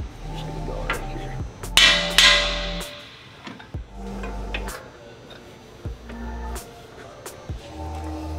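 Hammer tapping on a 2021 Ford F150 truck spindle to free it: a handful of sharp metallic strikes spread irregularly over steady workshop background hum and noise, close by.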